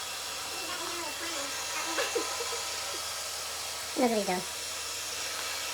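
An old Roomba robot vacuum, about four years old, runs with a steady, moderately loud motor whir and hiss throughout, while people talk briefly over it.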